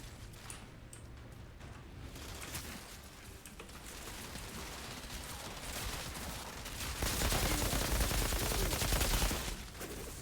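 Rapid automatic gunfire from a weapon in the shooter game Outriders, bursts of sharp cracks that build into a louder sustained stream near the end before cutting off.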